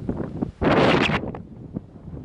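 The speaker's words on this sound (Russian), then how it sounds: "Ветер сегодня на улице." A sudden gust of wind buffets the microphone for about half a second outdoors by a field, then fades to quieter rustling and faint outdoor noise.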